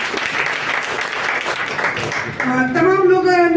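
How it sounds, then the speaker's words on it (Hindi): A seminar audience bursts into loud applause after speech fades, clapping close and dense for a few seconds alongside the speaker's voice. "जिनके लिए शानदार ताली"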